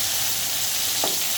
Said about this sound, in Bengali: এই তো আমার পেঁয়াজ ভাজা প্রায় হয়ে গেছে